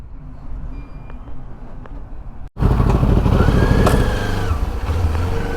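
A motorcycle engine idles quietly, then a louder, steady engine drone takes over with a low, muffled exhaust note.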